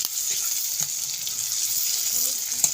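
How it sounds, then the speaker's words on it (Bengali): Soft, continuous sizzle of onions frying in oil, fairly quiet and close, with a few faint clicks and no talking. "পেঁয়াজটা দিয়ে এবার আমরা ভেজে নেব পেঁয়াজটাকে লাল লাল করে"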